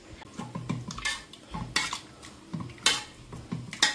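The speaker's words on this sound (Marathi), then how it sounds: "आपण ह्या भाज्या आता मस्त याने ना अशी एकदम बारीक याची प्युरी करून घेऊया" A metal masher clanks and scrapes through cooked vegetables in a pan, working them into a pav bhaji puree in irregular, close-up strokes with sharp metallic knocks.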